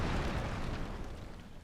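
Bombs blast apart rocks in Tears of the Kingdom, a dense, loud, rumbling burst that fills the short moment and tails off slightly, with no talking.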